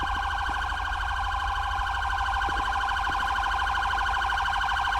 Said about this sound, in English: We're gonna get our ambulance started here.